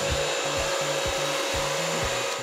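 A Bissell CrossWave 1785A wet-dry vacuum runs steadily on a floor near the microphone, a constant motor hum and whine with rhythmic low scrubbing strokes as the head is pushed back and forth, no voices.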